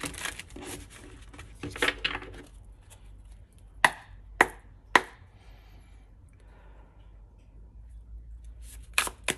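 Tarot cards being shuffled during a reading: a few soft riffling bursts early on, then three sharp distinct card snaps in the middle and another near the end, close and fairly quiet with no talking.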